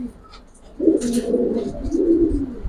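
Silver and Pankhi pigeons in a loft coo in two rolling low phrases, close and fairly loud, with faint bird chirps behind them.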